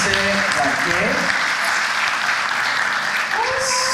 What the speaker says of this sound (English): Another round of applause for Alla, directed by Montserrat Larque.